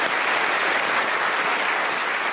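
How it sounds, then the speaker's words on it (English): A studio audience at a hypnotism show gives dense, steady applause that fills the whole short stretch at an even level, with no voices standing out. "Round of applause for Alice."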